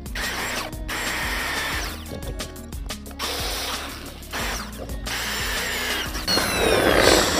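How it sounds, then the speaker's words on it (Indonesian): A power drill boring into a steel trowel handle, loud grinding bursts that stop and restart several times with brief ratcheting pauses, rising to a harsher metallic whine at the end. "selanjutnya kita bor"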